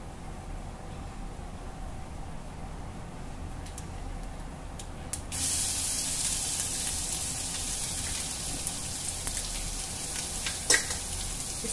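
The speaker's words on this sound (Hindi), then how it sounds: "अब हम इसमें डाल देंगे अदरक लहसुन और मिर्ची का पेस्ट।" Ginger, garlic and chili paste hits a hot pan midway and sets off a loud, steady sizzle that swells over the quieter frying before it, with a few scraping stirs and no talking.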